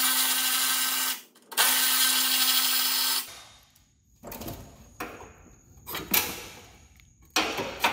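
Power tool zipping out two 10 mm bolts on a V6 Mustang during a turbo kit install, two loud whirring bursts followed by clattering, clicking handling noises.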